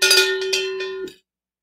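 A small bell pendant from a necklace is shaken close up, giving a bright, rapid metallic jingle for about a second before it cuts off into silence.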